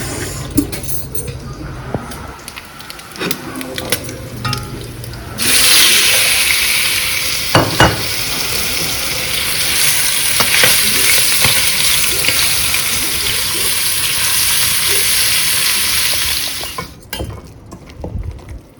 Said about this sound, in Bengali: আমি তাহলে নুডলসটা রান্না করি chicken vegetable with egg noodles